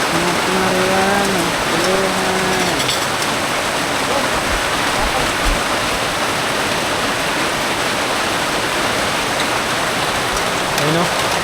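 Heavy rain pours down outdoors in the Philippines, a loud, dense, steady hiss of downpour that lasts throughout with no pause.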